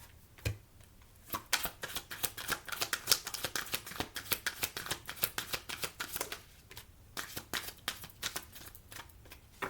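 A tarot card deck being shuffled by hand, a crisp run of rapid riffling slaps and flutters that comes in bursts, close and fairly loud, with a brief pause partway through before the shuffling resumes.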